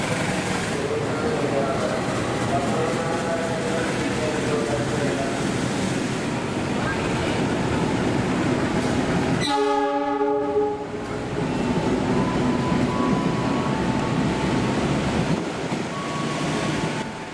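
A retro luxury tourist train on an extraordinary (KLB) run in Indonesia rumbles along steadily, and one loud, sustained horn blast sounds midway through the run over the continuous rolling noise.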